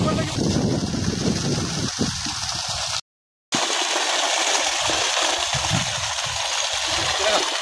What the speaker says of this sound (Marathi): चला आता मी तुम्हाला प्रेशर दाखवतो पाण्याचं